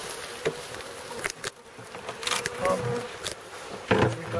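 A wild honey bee colony about five years old buzzes at its hive during a relocation, a close, continuous insect drone with wings flicking past and brief bursts, a person speaking briefly now and then.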